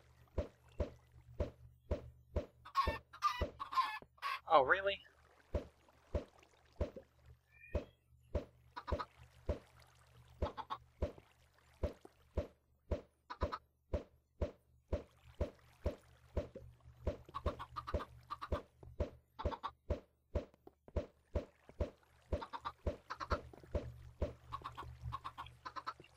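Chickens cluck in a Minecraft Skyblock chicken farm, a steady rapid train of short sharp clicks and pops over a low hum, with a brief burst of voice and a few faint clucks early on.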